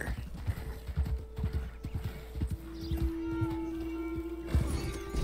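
Horse hooves in a video game clip-clopping in uneven bursts of clattering steps as the horse gets stuck while being parked, with a sustained tonal game sound running beneath and occasional brief thumps.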